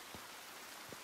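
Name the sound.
pouring rain in a video game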